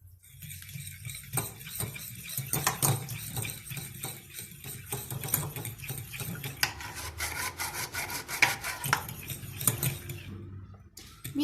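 Stirring brownie cookie dough after butter is added: continuous close rubbing and scraping of a utensil through thick dough in a bowl, steady and rhythmic for about eleven seconds.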